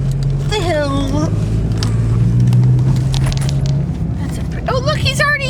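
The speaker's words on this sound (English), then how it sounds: "I gotta put this camera down because I have to shift gears to go up the hill." A car climbs a hill as its gears are shifted, the engine holding a steady, close low hum throughout, with voices talking over it at the start and end.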